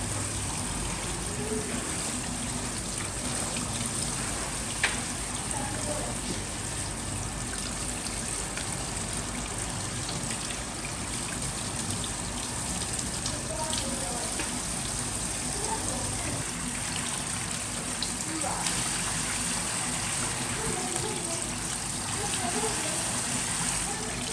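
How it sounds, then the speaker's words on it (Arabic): Tap water runs steadily over chard leaves being washed for Iraqi dolma, a soft continuous splash and trickle at low level throughout, with a faint clink now and then. "هاي قدامكم فاتحة عليه المي، حغسلن غسل نظيف."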